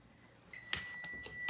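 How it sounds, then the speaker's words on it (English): Oven timer beeping in a home kitchen: a steady electronic tone sets in, followed by a few sharp beeps at irregular intervals, clear but moderate in level with no talking. "there's my timer"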